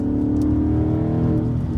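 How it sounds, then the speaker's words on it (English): Ford Mustang V8 with a Corsa Extreme exhaust and a check engine light on, its deep, loud exhaust drone rumbling steadily from up close with no pauses. "Just loud V8 exhaust is what you need."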